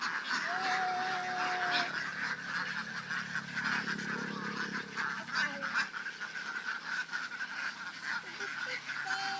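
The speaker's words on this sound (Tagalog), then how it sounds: "Itik, itik." Ducks calling outdoors in a rural setting, a few honking quacks standing out over steady background noise, with brief voices nearby.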